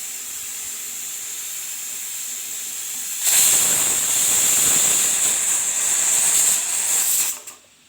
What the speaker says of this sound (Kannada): ಈಗ 2 ವಿಸಿಲ್ ಬಂದಾಯಿತು